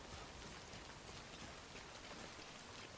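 Steady rain falling in the video game Death Stranding, a dense, even hiss of drops on surfaces holding constant for a few seconds with no voices.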